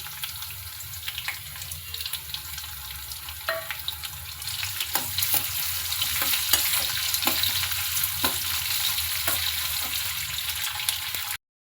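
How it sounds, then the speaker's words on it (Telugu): Finely chopped onions frying in a pan with cumin and mustard seeds for a curry, a continuous close sizzle with scattered stirring clicks and knocks, with no voices, ending abruptly. "సన్నగా తరిగిన ఉల్లిపాయ ముక్కలు కూడా వేసి మంచి రంగు వచ్చే వరకు ఫ్రై చేయాలండి"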